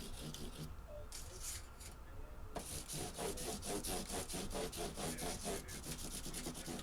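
A Teisco EP-11T guitar body's bevels are sanded by hand with 800-grit sandpaper, giving close, steady back-and-forth rubbing strokes in an even rhythm after a brief quieter start.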